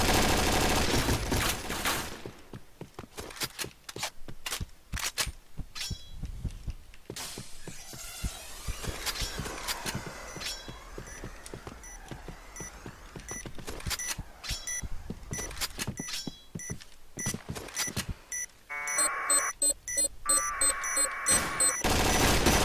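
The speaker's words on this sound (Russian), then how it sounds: "Какая-то перестрелка." Rapid, dense gunfire from a competitive video game match between Dtox and Gear, with bursts of automatic fire and sharp shots filling the scene, loud and close throughout, ending in a chaotic flurry of shots and impacts.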